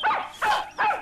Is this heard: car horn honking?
no